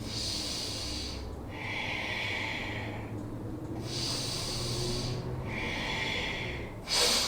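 Steady, close breathing through a yoga flow, with alternating long airy inhales and exhales in an even rhythm and a sharper breath at the end.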